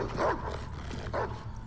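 A dog in a racing video game gives two short barks about a second apart, moderately close over a low steady engine-like hum.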